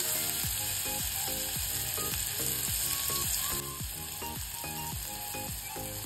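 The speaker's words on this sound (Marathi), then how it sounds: "आता मी टाकलेला आहे बारीक चिरलेला कांदा" Finely chopped onion frying in oil with cumin, mustard seeds, red chilli, turmeric and asafoetida for masale bhat, a loud continuous sizzle with a regular rhythmic mechanical clicking running underneath.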